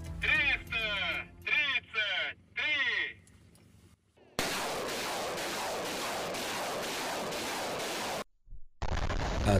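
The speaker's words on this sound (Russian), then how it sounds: "Достаточно сравнить с советской разработкой «ГРАД». Она выпускает по противнику до 40 ракет одним залпом." Soviet Grad 40-tube multiple rocket launcher firing a salvo: a long, dense roaring rush of rockets launching in quick succession, loud and continuous for several seconds, with a cut-in radio-like voice and bursts of noise before and after.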